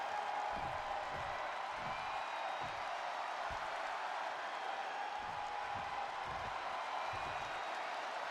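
A steady roar of an arena crowd at a WWE 2K24 wrestling match, with faint applause and cheering running continuously throughout at an even level.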